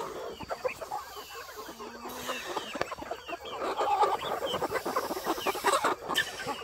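Chickens cluck and squawk repeatedly at close range in a rapid, uneven chatter, with a few louder calls standing out and no talk over them.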